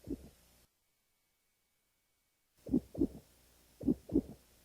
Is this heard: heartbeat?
yes